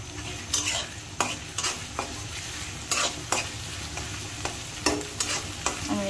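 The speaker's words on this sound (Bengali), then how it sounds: "আমি এখন এখানে কাঁচা মরিচ আর পেঁয়াজ কুচি দিয়ে দিচ্ছি।" Chopped onion and green chilies frying in hot oil for a pumpkin and prawn curry, with a soft continuous sizzle broken by repeated scraping stirs of a spatula against the pan, close and without talking.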